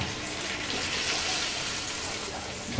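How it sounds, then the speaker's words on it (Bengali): Water is poured into a pan of frying hilsa fish, making a continuous splashing, hissing gush that stays close and steady. "একটু পানি দিব যাতে মাছগুলা অর্ধেক পর্যন্ত পানির নিচে যায় পুরাটা না"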